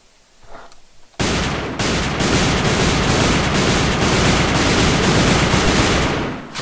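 Sustained automatic fire from a para gun in the video game AvA, a loud, dense unbroken burst of rapid shots lasting several seconds after a brief quiet start, with no talk over it.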